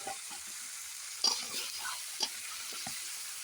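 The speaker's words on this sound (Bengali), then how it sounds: "হালকা করে নেড়ে চেড়ে ভেজে নিই" Paneer and chopped tomatoes fry in a pan with a soft, steady sizzle, while scattered scrapes and clinks of stirring come through close by.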